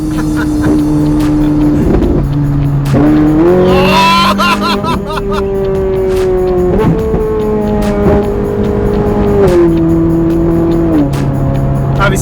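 A Ferrari 458 Italia's V8 pulls hard from low revs in seventh gear, a loud, steady engine note climbing in pitch with brief dips, sustained close throughout under the driver's commentary.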